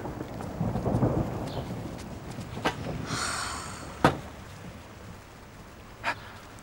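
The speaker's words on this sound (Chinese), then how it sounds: "Oh my god，这是打雷啊，怎么控制啊？" Thunder cracks sharply three times over a low wash of rain during a storm, each clap sudden and loud, with a faint rumbling roll between strikes.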